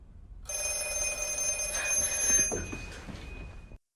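A telephone rings with a steady electronic trill for a few seconds, heard alone and fairly close, then cuts off abruptly.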